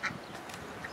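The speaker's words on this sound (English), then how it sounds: "Duck with the baby duck." A duck in wetlands, a mother with ducklings, gives a single short quack near the start, fairly faint against quiet outdoor ambience, with a fainter call near the end.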